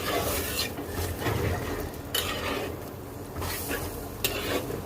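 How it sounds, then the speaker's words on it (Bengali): A spoon stirs mola fish chorchori vegetables in a pan just after a little water is added, giving steady scraping and stirring strokes with a soft sizzle underneath, close and moderately loud, no talking. "জলটা দেওয়ার পরে এবার একটু মিক্সড করে দেব"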